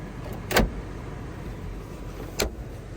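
Two short whirring bursts from a car's electric power windows being operated, the first louder and the second about two seconds later, each standing out over a quiet background.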